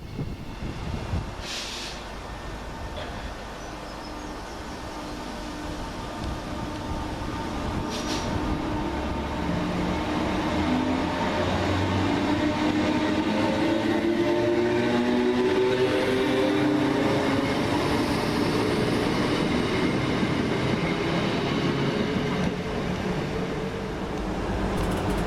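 A Northern Rail class 319 electric unit, 319370, pulls out of Newton-le-Willows station. Its motors whine upward in rising tones as it gathers speed, with a rolling rumble that swells and stays loud, plus faint clanks early on.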